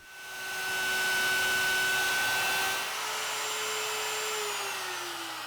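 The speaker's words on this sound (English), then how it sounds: "I'm going to use a straight edge and a 1/2 inch straight bit in the router to cut the mortises" A router fitted with a half-inch straight bit cuts mortises in wood, its motor whine rising quickly to a loud steady pitch, then easing slightly and winding down as the cut finishes.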